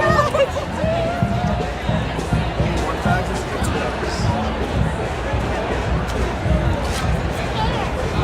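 Dense crowd hubbub at the Pride Toronto Trans March on Yonge Street at night, a steady babble of many voices, footsteps and distant shouts all around, with a nearby person talking over it.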